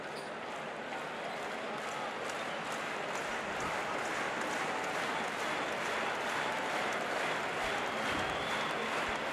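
Basketball arena crowd at a Mexico vs Puerto Rico Olympic qualifier roars with steady cheering and applause, a dense, loud wash of noise sustained throughout with faint shouts on top.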